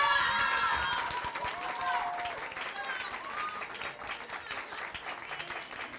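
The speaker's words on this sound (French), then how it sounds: "sous vos chaleureux applaudissements" An evening contest audience applauds as the finalists are announced, a steady wash of clapping with some cheering voices that slowly fades over several seconds.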